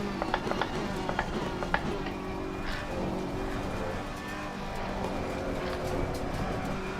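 A race car in the Assetto Corsa Competizione sim racing game gives a constant, mean engine growl that holds steady throughout, loud and continuous.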